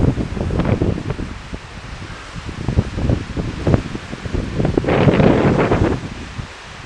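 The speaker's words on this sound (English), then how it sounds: "Camera's shaking because of the wind." Gusty wind on a mountain ridge hiking trail buffets the microphone in rough, uneven rumbling bursts, swelling loudest near the end, close and dominant with no talking.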